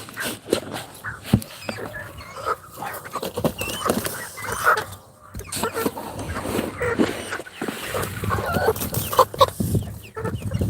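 Farm chickens in a coop cluck and patter repeatedly at close range, with busy scratching and creaking around them and some talk mixed in.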